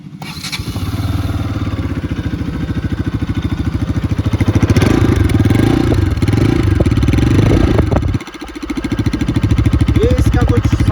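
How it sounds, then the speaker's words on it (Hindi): Bajaj Pulsar RS 200 motorcycle, 2024 model, exhaust note at a steady loud idle with a dense, even pulsing throb, briefly dipping around the eighth second before settling back to the same rumble. "तो दोस्तों अब मैं इसका आपको एग्जॉस्ट नोट सुनाता हूँ।"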